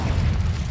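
A Confringo blast spell from Hogwarts Legacy goes off as a dense, loud, booming roar that fills the whole short moment with low rumble.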